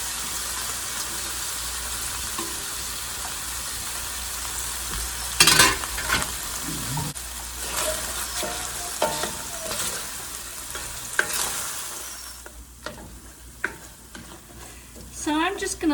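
Onion sizzling in hot oil in a pan after chicken thighs have been browned, a steady loud crackling fry with bursts of stirring and scraping, no talking.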